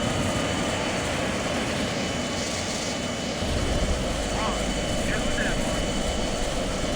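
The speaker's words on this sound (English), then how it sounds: "Going full power. Ready for launch." The A-4 jet engine in the Strike Fighters 2 flight simulator roars at full power on a carrier flight deck before launch, a loud, steady, broadband rumble that swells slightly partway through, with a voice speaking over it.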